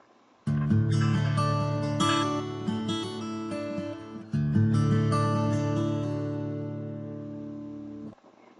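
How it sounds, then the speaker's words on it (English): An acoustic guitar rings out alone in two long strummed chords, the second struck just after the first fades, each sustaining and decaying slowly. "That is known as the acoustic guitar."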